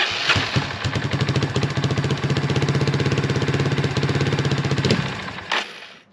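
A Suzuki DR 350 SE dual-sport dirt bike, an abandoned machine under revival, fires up and settles into a steady, rapid single-cylinder thumping idle, close by, before cutting out near the end.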